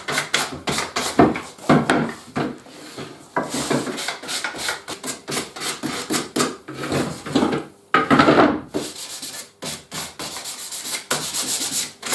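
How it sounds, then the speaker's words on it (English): Sandpaper dressing the edge of a Conti-Board wardrobe panel, a loud, close run of rhythmic rasping strokes back and forth with short pauses between bursts. "I just want a bit of sandpaper to just dress the edge off of it"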